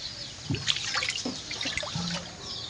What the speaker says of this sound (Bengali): এই যে আমার মেয়ে জলে খেলা করছে।